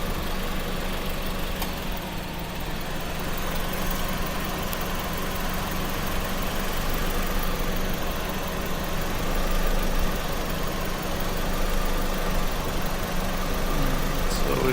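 Honda Civic (2001–2004) engine idling with the AC compressor engaged, giving a steady, continuous mechanical drone with an even hum that holds unchanged throughout, with no talking.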